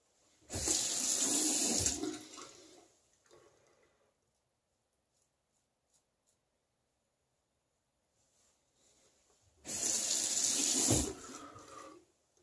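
A bathroom tap runs in two loud, steady bursts to rinse up after a wet shave, with a quiet gap between them and no talking.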